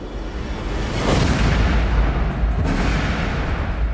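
A bullet set off by a homemade spring-loaded primer rig goes off as a loud, sustained blast, a dense roar that swells and holds for several seconds with no voices.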